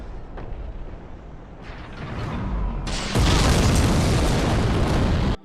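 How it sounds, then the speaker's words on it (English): Massive exploding cannonballs hurled by a giant creature on a rooftop in Dark Souls, a low rumble that builds into a loud sustained blast and roar before cutting off abruptly. "a giant creature throws massive exploding cannonballs"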